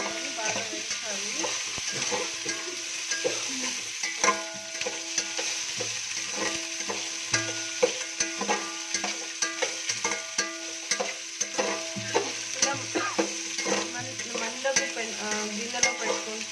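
Green chillies fry in hot oil for veg pulao while a spoon stirs and scrapes the pan, a steady close sizzle punctuated by frequent rhythmic metallic scraping.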